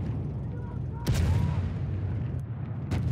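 Mortar fire in a Battlefield 1 match: two heavy booming blasts land about two seconds apart over a constant roar of distant battle noise, with no voices.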